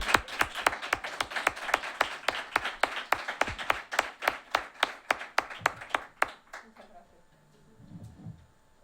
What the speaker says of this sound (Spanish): Bueno, un aplauso, ¿no?